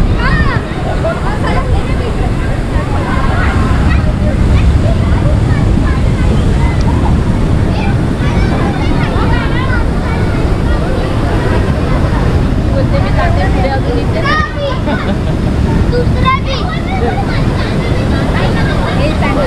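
Sea waves wash steadily onto Devghali beach in Konkan, Rajapur, under constant wind rumble and the chatter of a crowded shoreline, with people talking close by throughout.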